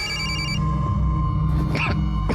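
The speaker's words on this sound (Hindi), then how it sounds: "संदीप ने बियर खरीदने के बाद तुम्हें फोन किया।" A telephone rings with a repeating electronic tone in a Hindi crime drama scene. The ring is loud and close, with some faint background noise and no speech.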